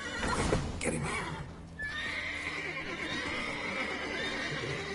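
Horses in The Witcher 3 neigh sharply near the start, then give a long, drawn-out whinny over the sound of shuffling hooves, close and clear.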